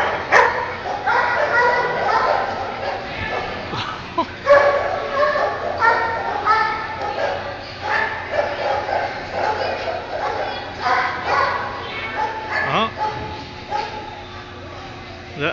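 Dogs bark and yip repeatedly in lively bursts at a dog agility course, heard at moderate distance under continuous outdoor crowd chatter and talk.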